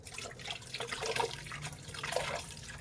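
Rice being washed in water in a home kitchen, with soft sloshing, dripping and swirling splashes that come and go at a gentle, close level, no talking.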